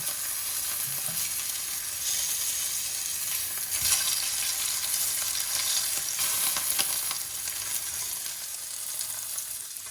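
Bacon sizzling in a pan, a steady, bright hiss of crackling fat running throughout with small spits and pops, close and moderately quiet, no talking.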